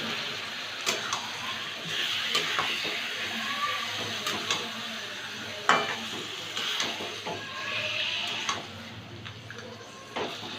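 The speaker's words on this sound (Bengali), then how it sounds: "ডিমটা একটু ভেজে নিলাম। এবার মাংসটা দিয়ে দেব।" Chicken meat goes into a pan with lightly fried egg, giving a steady close sizzle broken by repeated sharp clicks and taps of stirring.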